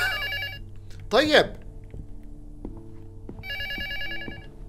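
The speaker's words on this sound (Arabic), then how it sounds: "زمان ما سمعت رن التليفون، رن التليفون" An old-style telephone bell rings in bursts in the LUTO horror game demo, with a steady electronic trill near and clear, pausing and then resuming, while someone speaks briefly over it.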